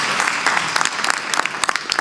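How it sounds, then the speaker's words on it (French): Audience applause at a French conference on digital technology in industry, a brief burst of many hands clapping with sharp individual claps standing out from the steady crowd patter. "N'applaudissez pas, j'ai pas fini."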